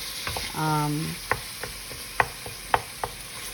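Lasagna meat filling browns in a pan with a steady low sizzle, punctuated by sharp scraping knocks of a spoon stirring against the pan and a brief tonal scrape early on.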